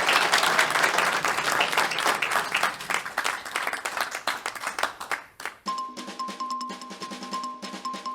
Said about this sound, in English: How about a nice big warm round of applause one more time for the Improv team.